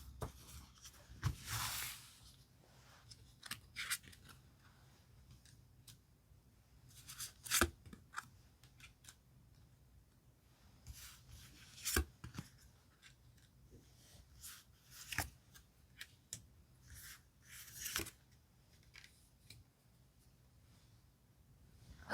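Tarot cards are shuffled and picked out in a quiet room: soft, scattered papery swishes and light taps come in short bursts separated by long silences, close up and faint.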